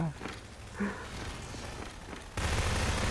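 Bursts of rapid gunfire with booming impacts in Half-Life 2 Deathmatch, including an oil barrel being shot and bursting, ending in a louder sustained volley.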